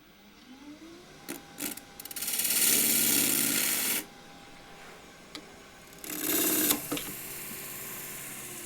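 A 3/8 spindle gouge roughs down a wood blank for a picture frame on a lathe, giving two long, loud rasping bursts of cutting separated by a quiet pause, with a few short scrapes as the tool touches in.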